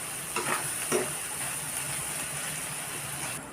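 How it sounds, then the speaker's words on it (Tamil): A paneer and onion masala fries in a pan with a continuous sizzle, while a few stirring scrapes stand out near the start and no one speaks. "இந்த மசாலாவை நம்ம பண்ணுக்குள்ளே நடுவில் வச்சு சாப்பிட்ற மாதிரி நல்லாவே ஃப்ரை பண்ணிக்கணுங்க"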